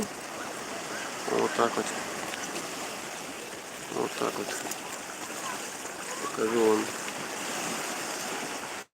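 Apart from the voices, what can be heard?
sea waves rolling onto the shore in Crimea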